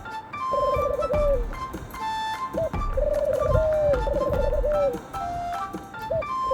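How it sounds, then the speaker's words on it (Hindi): Pigeon cooing in repeated soft throaty bursts, several rolling coos in a row with short pauses between, close and clear over a quiet background. "तो बच्चों, पीजन की साउंड कैसी होती है?"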